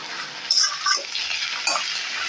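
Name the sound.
stirring bean and poppy seed curry with green chillies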